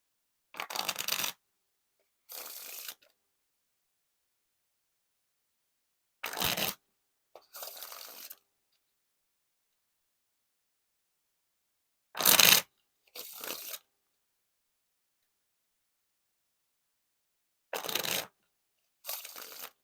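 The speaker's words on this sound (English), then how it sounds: "Now time for the riffle shuffle or bridge shuffle." Playing cards riffle-shuffled repeatedly, each burst a quick fluttering riffle followed by a softer bridge, in regular pairs separated by quiet pauses.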